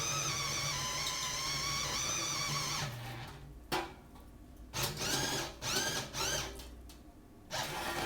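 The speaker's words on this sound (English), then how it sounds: "There's my 2-inch hole saw." A 2-inch hole saw bores into metal while modifying a Weber smoker, a steady whining grind running for about three seconds, then choppy bursts of cutting between pauses.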